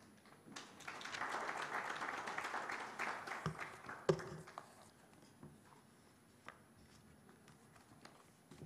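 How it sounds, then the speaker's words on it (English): An audience at an East African policy forum on tax harmonisation and debt sustainability applauds a state minister. The clapping swells, holds for a few seconds, then thins into scattered claps and thumps. "Another round of applause for the Honorable Minister of State for East African Affairs"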